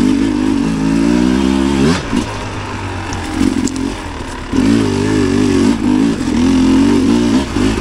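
Sherco dirt bike engine revving hard up close, loud rising and falling blips with a brief dip around two seconds and sustained throttle bursts afterward.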